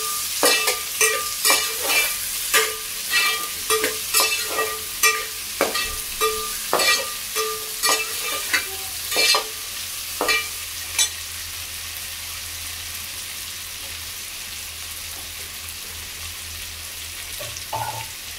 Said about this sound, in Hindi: आलू और गाजर डाल के आप अच्छे से मिला लें।